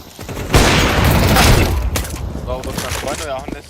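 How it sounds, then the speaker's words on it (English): In Counter-Strike 2, a flashbang detonates with a sharp, loud burst that rings on for over a second, followed by crackling impacts and a brief voice near the end. "Flashbang."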